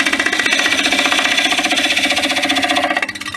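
A bowl gouge cuts into spinning wood on a lathe, giving a loud, steady rapid chatter with a fast regular pulse that eases slightly near the end, with no voice over it.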